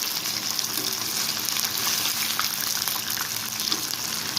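A green chilli kebab fries in a pan over high heat, giving a loud continuous hissing sizzle with scattered small pops, close and steady, no talking.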